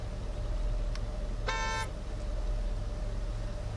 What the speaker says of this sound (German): die können nur ruhig hupen da hinten